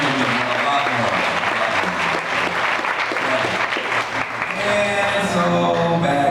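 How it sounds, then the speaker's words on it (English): A convention crowd at the 2016 Democratic National Convention applauds loudly and continuously for Bernie Sanders, with cheering and music or voices mixed into the dense clapping. "give him a round of applause"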